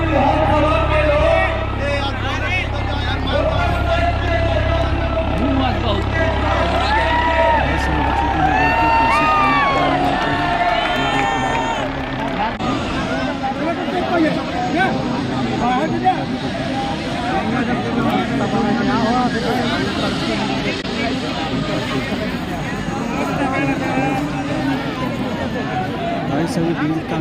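A large outdoor crowd at a Yogi Adityanath rally in Pailani, Banda, cheers and shouts continuously, with whoops and children's voices in a loud dense babble and a low rumble in the opening seconds.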